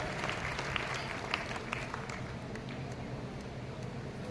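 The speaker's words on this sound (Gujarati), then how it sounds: "જોરદાર તાળીઓથી વધાવી પધારો અશ્વિનભાઈ" Audience clapping at a Gujarati community gathering for a website launch, a steady, dense patter of many hands that holds evenly throughout with no voices rising above it.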